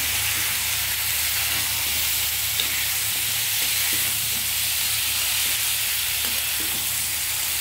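Cut winter vegetables dropped into a hot pan, a steady loud sizzle and hiss of frying that holds evenly throughout with no talking.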